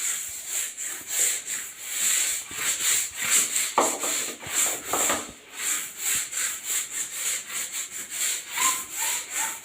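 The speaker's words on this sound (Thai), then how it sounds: "ช่วงนี้มะนาวเยอะ มะกรูดเยอะ ขัดไปเลยค่ะ ขัดไปเลย ขัดให้สะอาด" A bathroom floor is scrubbed with kaffir lime in a steady series of rhythmic back-and-forth rubbing strokes, close and fairly loud, with no voices.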